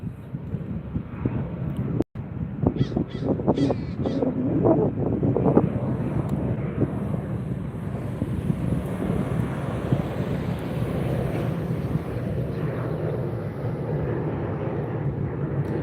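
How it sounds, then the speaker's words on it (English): Jet airliners at LAX, including a United departure, roar steadily at a distance from a beach vantage point, with continuous wind buffeting the microphone throughout. "Got another United taking off."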